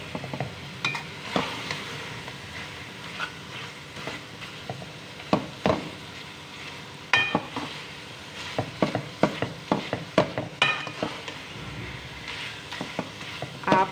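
A spatula stirs and presses turnip and radish bhujia in a pan, making irregular scraping and tapping strokes over a soft sizzle, close and fairly quiet, with no talking.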